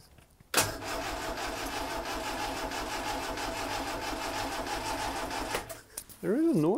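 A Lotus Elan twin cam engine cranks and catches, then runs at a steady, busy idle with a rapid mechanical ticking throughout, and a voice speaks briefly near the end.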